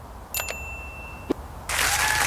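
A synthetic notification chime rings twice in quick succession, followed by a short click and then a burst of steady hiss; no voices.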